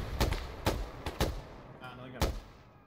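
Gunfire in the military shooter ArmA 3 in a jungle setting: five sharp, fairly close single shots at uneven intervals over a few seconds, with faint voices in the background.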